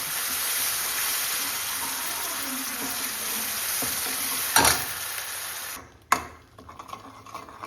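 Mushroom and pea curry paste sizzling in a pan as a ladle stirs it, a steady close frying hiss with scraping, a sharp clatter near the end, then the sizzle drops away to quieter clinks.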